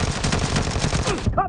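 Rapid automatic gunfire in the video game PUBG, a dense, loud burst of shots in quick succession that cuts off abruptly near the end, followed by a brief trailing tone.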